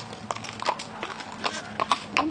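Hooves of a horse pulling an antique late-19th-century style carriage at a driving competition clip-clop on hard ground in a steady walking rhythm, fairly close, with faint voices in the background.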